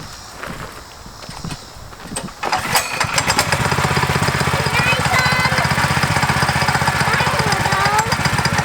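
A Coleman KT196 go-kart's small engine revs up after a couple of seconds of quieter handling noise, then runs loud and steady with a rapid pulsing chug while the kart moves off.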